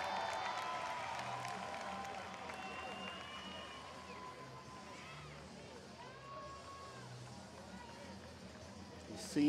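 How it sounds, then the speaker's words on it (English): Crowd at a strongman stones-over-hitching-post event cheering on a lifter, a steady distant roar of shouts and encouragement with commentary voices over it. "The crowd cheering him on."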